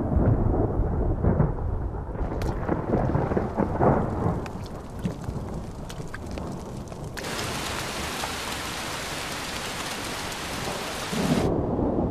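A seasonal thunderstorm over Ecuadorian highland grassland, on slopes above 1500 metres, brings deep rolling thunder over steady heavy rain, then a louder bright hiss of downpour that swells and fades near the end.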